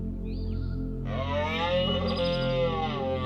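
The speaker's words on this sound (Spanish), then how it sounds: "Cada otoño, los machos rugen fuerte, uno de los sonidos más impresionantes en la naturaleza." Loud, drawn-out roar of a male wild animal in autumn, a rising harmonic bellow that starts after a brief faint call and holds steady for a couple of seconds, close and alone with no voices.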